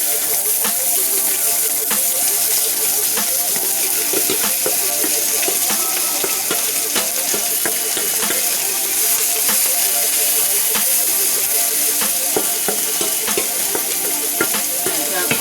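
Vegetable oil sizzles and crackles steadily in a pan over medium-high heat, a dense, continuous frying hiss with scattered sharp pops, close and fairly loud throughout with no talking.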